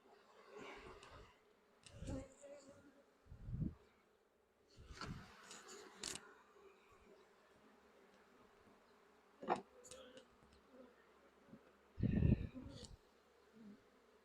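Honeybees buzz around backyard nucleus hives in Pennsylvania in midsummer, a faint hum with louder drones as single bees pass close by. Soft handling knocks and rustles come through at intervals.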